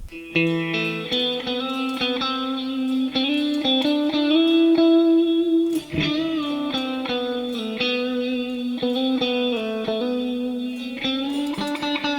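A sustained, effects-laden electric guitar plays a slow, eerie melody with long ringing notes and a touch of distortion and reverb, steady and upfront.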